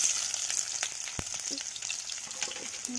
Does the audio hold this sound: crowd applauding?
no